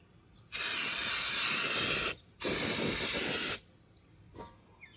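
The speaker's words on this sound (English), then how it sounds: "That parts cleaner." Aerosol parts cleaner sprayed inside a Dodge Ram 3500 dually transmission during a fluid and filter change: two loud, close hissing bursts of about a second and a half each, separated by a brief pause.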